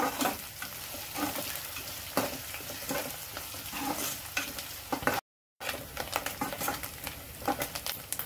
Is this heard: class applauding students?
no